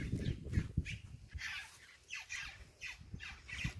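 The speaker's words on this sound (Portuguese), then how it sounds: "Os passarinhos, gente, esqueci o nome deles." Small black birds squawking in a backyard garden on a rural smallholding, a run of harsh, repeated calls at close to moderate distance, with no one talking.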